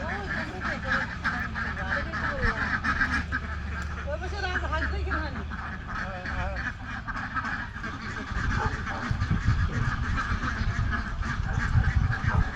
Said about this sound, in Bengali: হাঁসের খামার